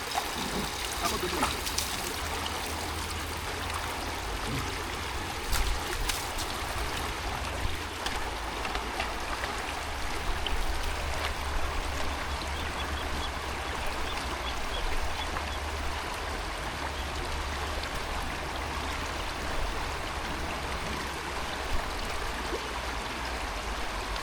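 A river in Carranglan flows steadily with a broad, continuous rush of water and light trickling throughout, with people talking nearby over it.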